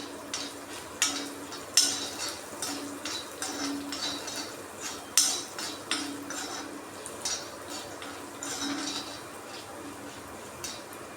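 Cumin and coriander seeds frying with chana dal in a pan for a drumstick-leaf spice powder, stirred with repeated sharp spoon scrapes and clinks over a soft steady sizzle, close and moderately loud, no talking.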